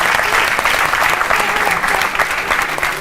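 Sustained applause from a live studio audience for a child performer on an Indian show, a dense continuous wash of clapping with occasional louder claps, close and steady throughout.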